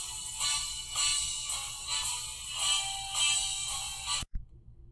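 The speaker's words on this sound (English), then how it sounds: "You may have heard the phone ring." A phone rings steadily for about four seconds, a repeating electronic tone pulsing in even bursts, then cuts off abruptly and leaves near silence.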